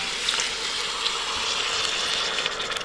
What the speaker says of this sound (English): Next, we're going to add the vegetable broth.